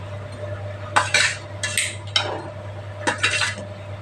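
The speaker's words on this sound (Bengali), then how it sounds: "মাছগুলো দিয়ে দিচ্ছি আমি।" Fish pieces are added one by one to a simmering curry, with a few clinks and scrapes of utensil against pot over a steady low hum, close and moderately loud.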